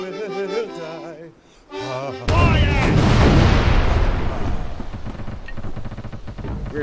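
Heavy cannon fire from a ship's broadside in the video game Furious Seas erupts as a loud, sustained rumbling barrage right after a voice speaks, booming close and filling the mix for several seconds.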